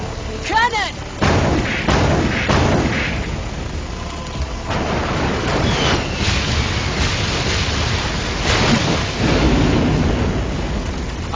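Cannon fire in a League of Legends Diana cinematic, heavy booming blasts landing several times among thunderous rumble and rain-like noise, with a few brief vocal sounds.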